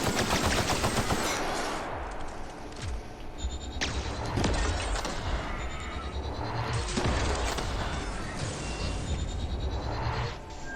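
Gunfire in the video game The Outer Worlds, sustained loud automatic bursts and heavy shots pounding almost without pause, dense and booming, with no talking over it.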